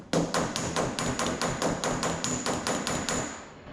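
A hammer strikes sheet metal backed by a dolly to raise a dent, with about thirteen sharp, ringing metallic taps in a quick, steady rhythm, loud and close.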